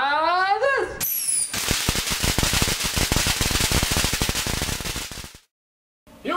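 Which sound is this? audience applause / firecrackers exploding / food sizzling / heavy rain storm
firecrackers exploding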